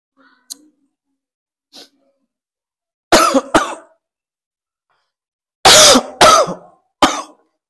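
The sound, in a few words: coughing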